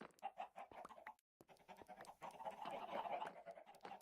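Chickens in the video game Minecraft cluck and squawk in quick, repeated bursts, close and fairly loud, with a brief silent gap before the calls grow busier and denser.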